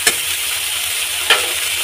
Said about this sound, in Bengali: তো এটাকে লাল লাল করে ভেজে নেব।